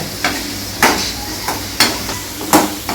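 Chow chow (chayote) chutney ingredients being sautéed in a pan, heard as a soft sizzle under a regular series of sharp spatula scrapes and knocks against the pan, close by and rhythmic.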